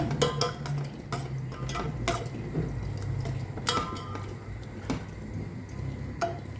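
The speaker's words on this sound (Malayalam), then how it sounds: "ഇനി ഒന്ന് ഇളക്കി കൊടുക്കാം ലോ ഫ്ലെയിമിൽ തന്നെ." A spoon scraping and clinking against a pan while lemon pickle is stirred on a low flame, giving steady irregular metallic ticks over a low background hum, with no talking.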